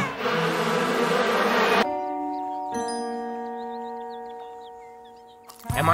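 A dense, loud buzzing of a swarm of killer bees fills the opening, then cuts off abruptly. Sustained bell-like tones and light tinkling follow.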